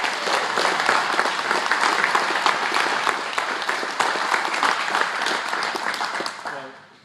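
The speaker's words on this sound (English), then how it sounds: "So let's give him a round of applause." Car dealership staff give a round of applause, dense sustained clapping from a room full of people that holds steady for several seconds before tapering off at the end, with voices mixed in.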